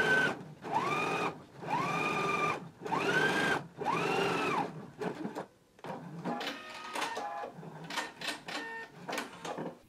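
A sewing machine understitches the fly of a pair of pants from Simplicity pattern 8889, its motor revving up and down in four close, even bursts, then giving way to lighter, irregular clicks and short runs.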